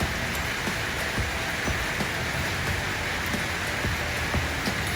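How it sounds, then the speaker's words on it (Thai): Steady rain falls and splashes on surfaces outdoors, a dense continuous patter with scattered heavier drops close by, heard alone without voices. "นานๆจะได้เล่นน้ำฝนนะคะ"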